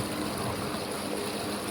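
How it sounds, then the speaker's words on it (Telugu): Water gushing steadily across a farm field near Podalakuru, a continuous broadband rush of flowing water heard close and fairly loud, with no voices. "చూడండి, వాటర్ ఫుల్గా వస్తున్నాయి."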